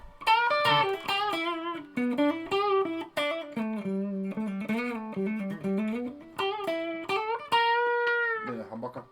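An electric guitar with reverb, thought to be a 1987 Vantage V318, plays clean melodic notes and chords with sustained ringing tails, close and fairly loud, with no talking.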